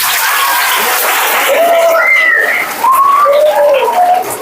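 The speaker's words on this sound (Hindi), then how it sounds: "तालियां" Applause at a school prize ceremony, with scattered clapping, several whistles and children's voices over a loud, steady crowd murmur.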